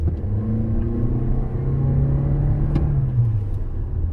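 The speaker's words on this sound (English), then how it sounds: "Pop it into its sport mode. Get a little acceleration." A 2021 Toyota Venza hybrid accelerates in sport mode, its engine note rising in pitch as a steady, fairly loud drone inside the cabin with a low road rumble underneath; no talking.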